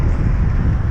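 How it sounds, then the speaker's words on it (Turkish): Loud, constant wind buffets the microphone with a heavy low roar and no pauses. "Yok ya rüzgar fena var ama"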